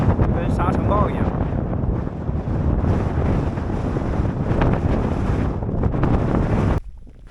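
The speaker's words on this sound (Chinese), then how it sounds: "狂风一吹，就跟沙尘暴一样。" A strong gale roars across an open concrete campsite along the Xinjiang–Tibet highway near Duoma township, a loud, continuous buffeting rush that batters the microphone before dropping away abruptly at the end.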